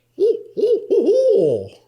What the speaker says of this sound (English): that is the barred owl.